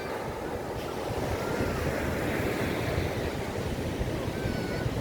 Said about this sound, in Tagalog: medyo pinagbabawal pa yung pagligo kasi malakas ang alon.